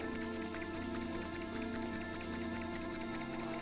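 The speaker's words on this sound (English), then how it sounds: "So I'm going to rub my hands together, rub, rub, rub." Palms rubbed briskly together to build warmth, a steady rhythmic swishing friction close up, heard under a soft background music bed.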